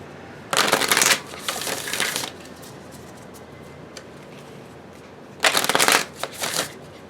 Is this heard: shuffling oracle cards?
yes